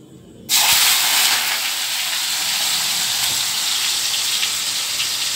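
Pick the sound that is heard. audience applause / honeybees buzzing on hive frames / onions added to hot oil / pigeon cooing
onions added to hot oil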